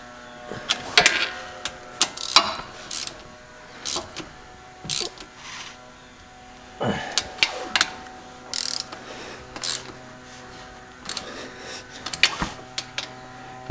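A hand ratchet clicks in short bursts while snugging the differential cover bolts on a Jeep Wrangler in a shop, quick pawl ratcheting spaced by pauses between bolts, close and clear with no talk.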